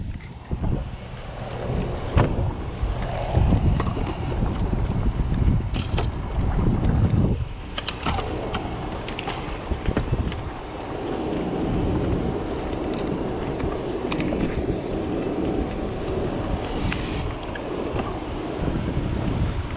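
Wind gusting outdoors on open water beside docked barges during an evening bass fishing trip from a boat, a steady broad rushing roar with louder buffeting bursts across the whole stretch, no talk.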